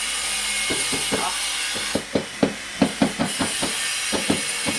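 A run of sharp knocks as tiles are hammered into place in a kitchen, a dozen or so taps in uneven bursts, close and fairly loud over a steady background hiss.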